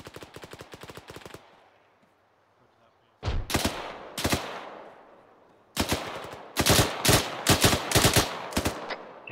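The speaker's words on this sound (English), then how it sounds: "Okay, MG, let's get some fire into those buildings." Machine gun fire rakes buildings in ArmA 3, loud rapid bursts of shots in several separate strings with short quiet gaps between them, close and punchy with some echo trailing off.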